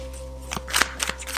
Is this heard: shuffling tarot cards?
yes